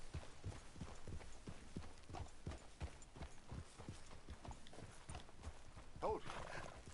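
Steady clip-clop of horse hooves trotting along, with a brief whinny near the end, from the video game Red Dead Redemption 2; voices talk over it.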